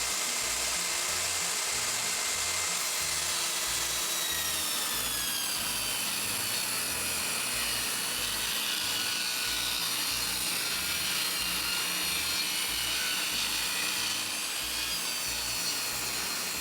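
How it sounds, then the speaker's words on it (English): A table saw rips 2x4 lumber in one continuous, fairly steady whirring cut lasting the whole stretch, with a rhythmic low thumping underneath and nobody speaking. "I typically get out the table saw and rip 2x4s into the type of lumber that I need."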